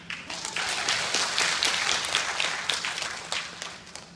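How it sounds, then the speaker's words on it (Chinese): A launch-event audience applauds the translators of a Chinese-language psychiatry book, with steady, dense clapping that holds for about four seconds before thinning slightly toward the end. "我提议把热烈的掌声送给这本书中文版的翻译家们"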